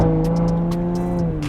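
A BMW Supra's exhaust burbles with a cluster of crackling pops over a steady droning engine note, heard close and loud for a moment.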